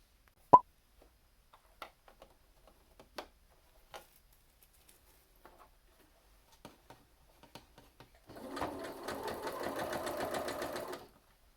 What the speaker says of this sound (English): we are ready to go into the sewing machine